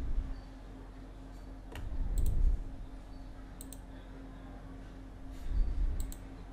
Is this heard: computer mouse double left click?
yes